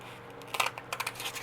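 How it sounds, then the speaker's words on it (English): A quick run of crisp snipping sounds, close up, as scissors cut through paper in several short strokes, with no talking. "I'm just going to cut these out with some scissors and not the trimmer"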